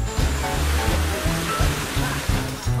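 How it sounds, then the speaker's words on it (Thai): Water gushes continuously through a newly connected pipe feeding a Thai mountain village, a dense rushing wash with a low rhythmic pulsing, loud and close, with no speech. "บิงโกน้ำไหลไปยังหมู่บ้าน"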